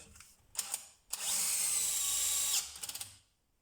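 A DeWalt DCD996N cordless drill drives a screw in one sustained high whir of about a second and a half, with short clicks and handling knocks before and after, close up and without speech.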